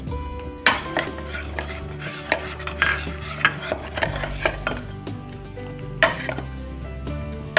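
Spoon stirring custard powder into boiled milk in a pot, with repeated scraping and clinks against the metal sides, close and fairly clear, sharper knocks now and then, no talking.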